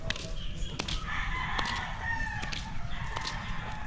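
Backyard chickens, including young pullets, cluck while a rooster crows loudly nearby, with sharp calls breaking through a steady low rumble of outdoor background noise.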